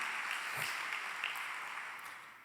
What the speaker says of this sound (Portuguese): Aplauda Ele então.